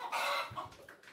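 A rooster, about ninety days old, clucking while held in the hand, short close nervous clucks in a brief burst with no talk.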